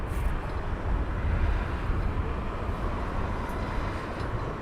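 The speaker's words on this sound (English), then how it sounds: "Inbound is a Virgin 350 from LAX" Virgin Atlantic Airbus A350 inbound from LAX arriving at London Heathrow, a steady broadband roar of jet engines and wind held at a fairly constant level throughout, with no voices.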